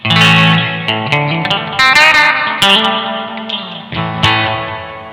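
Electric guitar chords through a Bluesdriver-style overdrive ring out loud and close, each strum sustaining with a washy reverb tail before the next.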